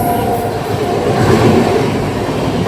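A passing train rushes by at speed beside a halted train on an Indian railway line at an unofficial halt, giving a loud, steady, close-up rumble of wheels and carriages with no break.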